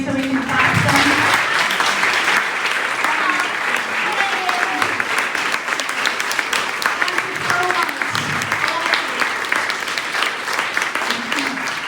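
An audience at the closing session of the WAFL2024 conference applauds, a loud, sustained wash of many hands clapping together with a few voices mixed in over the din.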